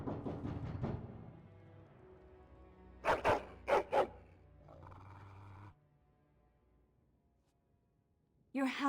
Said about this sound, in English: Your hound is making so much noise. He seems so angry.